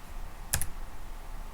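A value typed on a computer keyboard while building Power BI conditional formatting rules: a couple of quick close key clicks stand out alone against a quiet room background.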